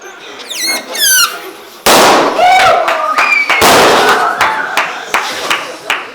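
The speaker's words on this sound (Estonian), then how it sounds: "Selleks on õhupalli puhumisvõistlus. Kes esimesena paugu ära teeb, see ongi võitja." Balloons blown up in a birthday-party balloon-popping contest: squeaky rubber squeals, then sharp, loud pops bursting over a mix of excited voices and shouting.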